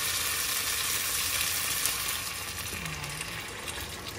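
Water poured into a pan of sizzling pork and shrimp paste brings a loud, steady hiss, with a short bubbling gurgle surfacing near the end as the sizzle softens slightly.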